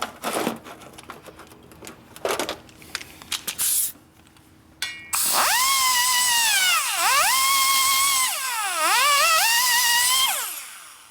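A high-pitched handheld grinding tool smooths the port of a 2017 Harley-Davidson FXDLS 110ci Twin Cam cylinder head. It whines loudly and continuously, its pitch dipping and rising as it bites the metal, after a few seconds of scattered clicks and taps.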